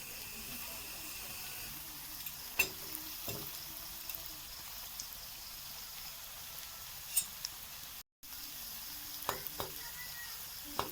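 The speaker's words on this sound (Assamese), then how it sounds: "এয়া তেল গৰম হৈ গ'ল।" Mustard oil and refined oil heat together in a kadai before aloo chop go in. There is a soft, steady sizzling hiss close by, with a few light clinks and a brief dropout partway through. No one speaks.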